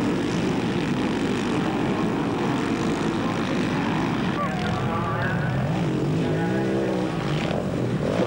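Large single-cylinder four-stroke enduro motorcycles roar at the start of a Six Days enduro event in 1990, a continuous, loud, rumbling engine blare with rising and falling revs toward the end.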